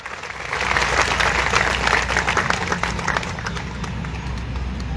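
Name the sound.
crowd applause at a rally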